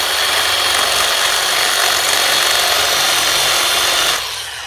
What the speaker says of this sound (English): And then with these drills, you can do just rotary.